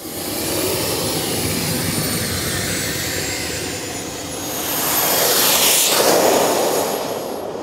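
A radio-controlled model airplane flying over a rural airstrip gives a steady, high-pitched engine whine that swells as it passes closer midway, then eases off. Moderately loud with wind and ambient noise, and no talking.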